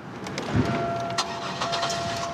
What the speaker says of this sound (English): this screwdriver was probably used to start the car